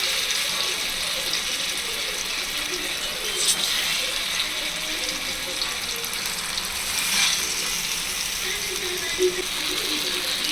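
Masala-coated elephant foot yam (karunai kilangu) pieces frying in hot oil give a steady, dense crackle and hiss that runs unbroken throughout, close and fairly loud, with a few brief sharper pops.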